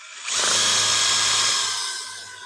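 Power drill fitted with a screwdriver bit, used while installing an inground pool liner, whirs loudly and close for about two seconds in one steady burst before winding down.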